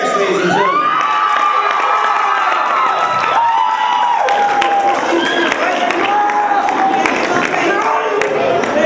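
A crowd cheers and shouts loudly and steadily at a live event, with children's shrieks, whistles and scattered clapping filling the whole stretch without a break.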